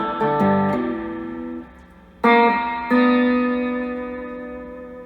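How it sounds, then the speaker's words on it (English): Guitar chords strummed through a scratch-built Fender 6G15 reverb unit with heavy reverb, each one ringing out and slowly fading, a second strum cutting in midway and sustaining with a washy tail. "looks like we got reverb."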